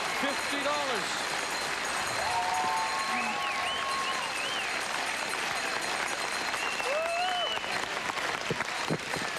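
Audience at a 1997 curling skins game semifinal clapping in a steady spread of applause, while a commentator talks over it and sharp whoops and cheers rise from the crowd.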